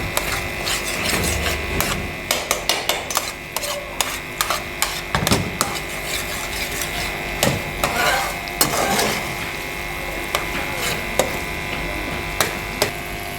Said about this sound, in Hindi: अब हम इसको अच्छी तरह इसमें मिक्स करके फ्राई करेंगे।